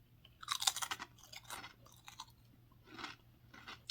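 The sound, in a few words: crunchy potato snack being chewed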